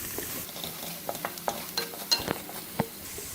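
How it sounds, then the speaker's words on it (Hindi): A spoon stirs a seasoned mixture of black pepper and salt, making soft scattered scrapes and light clinks against the pot, close and fairly quiet over a faint background sizzle. "अब मैं इसको हिला लूंगी"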